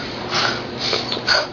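A young child imitates a pig, giving a few short, breathy snorting sniffs close by with brief gaps between them, with no other sound.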